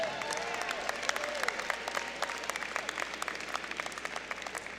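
A large audience claps for new graduates at a university fall commencement ceremony, with distinct individual claps audible over a sustained, moderately distant wash of applause and some faint crowd murmur.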